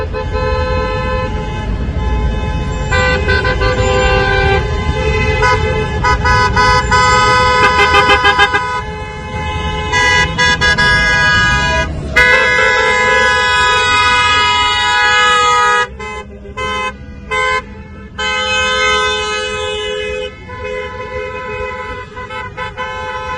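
Long queue of more than 5,000 cars on a road in Ukraine during the Russian invasion, horns honking loudly and continuously, overlapping toots and sustained blasts over engine rumble.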